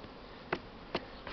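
Honeybees buzzing around a beehive, with bees crawling under the roof, as a low steady hum with a few brief sharp ticks or taps near the mic.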